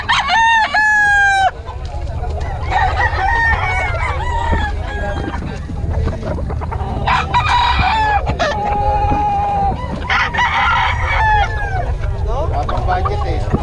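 Roosters crow repeatedly at a poultry seller's yard with hens clucking around them. The crows are loud and close, rising in several overlapping bursts, with farm background noise and some voices mixed in.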